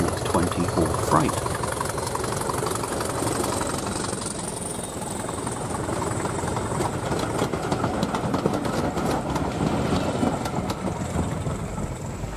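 A model Class 24 diesel freight train rolls past on a layout, a steady mechanical rumble and whir with rail clatter lasting the whole stretch, fairly loud and constant.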